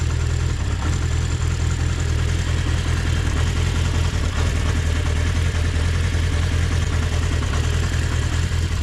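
A 1980 Honda CB650 motorcycle engine idles steadily after a cold start with the choke pulled out, giving a constant, close, even low rumble with no talking.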